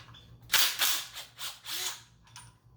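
An impact tool or wrench breaks loose 13 mm alternator bracket bolts on a 2.8 L Cadillac CTS engine, giving a short run of sharp, rattling mechanical bursts that are close and loud, with a faint hum underneath.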